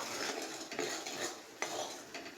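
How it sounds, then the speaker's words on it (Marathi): Metal utensil scraping and clinking against a pan as sugar syrup is stirred steadily, close and fairly quiet, with a few sharper knocks. "पाकसुद्धा आपल्याला सतत ढवळत राहायचं आहे"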